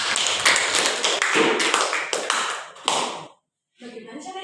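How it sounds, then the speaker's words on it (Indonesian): A classroom of people claps for a few seconds during a peer-teaching science lesson, dense overlapping applause that fades into a short silence before a voice resumes. "Tepuk tangan untuk Sumiati."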